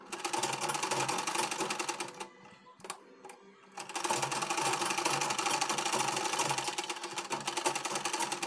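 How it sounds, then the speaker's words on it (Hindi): A sewing machine stitches the lining into a blouse sleeve in a fast, steady mechanical chatter, breaking off briefly in the middle with a few short bursts before running on continuously. "और अब हम बाजू की सिलाई कर लेंगे।"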